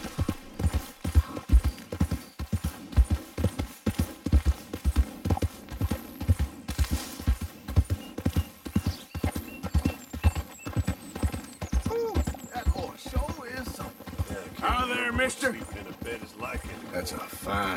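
Rapid, steady hoofbeats of a horse galloping in the Western video game Red Dead Redemption 2, loud and rhythmic throughout, with a brief whinny-like sound and game speech mixed in.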